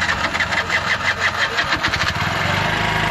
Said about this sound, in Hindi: ऑयल वगैरह इंजन में लगा लिया है और गाड़ी अभी स्टार्ट करते हैं।